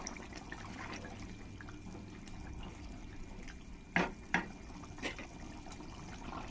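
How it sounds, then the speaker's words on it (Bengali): Boiling curry liquid for a rohu fish jhol in a pan, a soft continuous bubbling with a few distinct splashy stirring strokes close by. "তরকারির জলটা ভালোভাবে ফুটে গেছে এবার একবার ভালো করে নাড়িয়ে দেবো"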